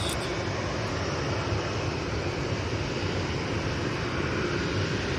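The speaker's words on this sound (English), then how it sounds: "We do have a Ryanair popping over, so let's have a look at this one." A Ryanair airliner passes over Manchester Airport with a loud, steady broadband engine roar that fills the whole clip, no talking.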